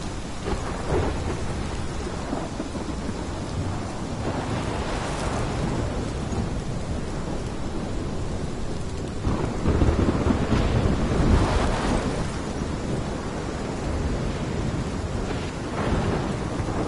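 Thunderstorm in the video game Life is Strange, with steady heavy rain and repeated rolling thunder that swells loudly around the middle and later, with no talking.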